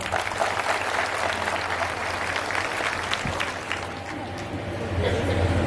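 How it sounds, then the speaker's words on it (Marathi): Women in an audience clap loudly and steadily at a public gathering, a dense sustained round of applause with a murmur of crowd voices underneath. "मी त्यांना सगळ्यांना विनंती करील की एकदा जोरात स्वतःसाठी आपण या ठिकाणी टाळ्या वाजवा"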